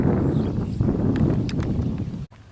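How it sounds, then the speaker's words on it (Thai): Strong wind buffets the microphone outdoors beside a flooded rice field during fishing, a loud, continuous low rumble with a brief dropout near the end. "ก็ลมอาจจะแรงนิดนึง"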